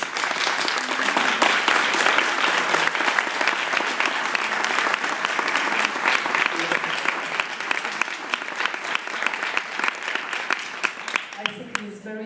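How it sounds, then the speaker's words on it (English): Loud, dense applause from a festival audience at FICUNAM in Mexico City honoring filmmaker Jonas Mekas, continuous clapping close and full throughout, tapering slightly at the very end. "I think this very nice applause means that we are agree."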